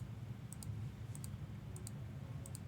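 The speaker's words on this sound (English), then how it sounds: "I'm just going to keep clicking it till we get to 11." Repeated mouse-style clicks used to roll a random die number, coming in paired clicks about every 0.6 seconds, faint and crisp over a steady low background hum.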